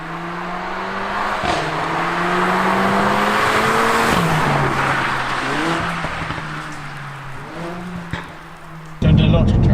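A car with a 2-litre engine accelerates hard through several gear changes, its engine note rising and dropping near and loud, with exhaust pops and bangs and a voice talking over it.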